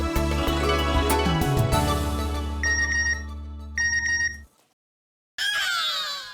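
A run of mobile phone message notification tones from a Hindi TV comedy scene, repeated bright electronic chimes that stop briefly into silence before one more jingle plays, loud and close with no talking.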